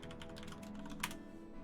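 Rapid typing on a computer keyboard, a quick run of close, light key clicks with one sharper tap near the end, no voices.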